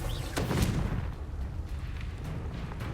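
The Confringo explosion spell goes off in Hogwarts Legacy as one booming blast near the start, followed by a rumbling tail and a few fainter crackles fading over the next seconds.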